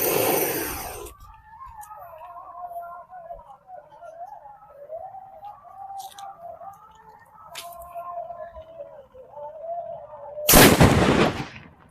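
A loud Diwali firecracker bang opens, a thin wavering whistle lingers for several seconds, then another sharp, powerful blast bursts out close by.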